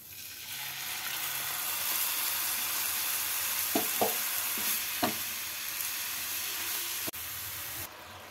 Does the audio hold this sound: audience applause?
no